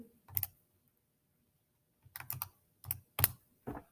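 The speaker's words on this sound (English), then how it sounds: "if I type into my calculator" Buttons pressed on a calculator while working out an inverse cosine, heard as a few short, close clicky taps in small clusters separated by a long pause, with no talking.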